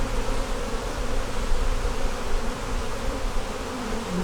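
Honeybees buzz on a hive frame with brood hatching, a dense steady drone close at hand with no voices.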